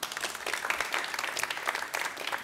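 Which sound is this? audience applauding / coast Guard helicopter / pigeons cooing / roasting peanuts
audience applauding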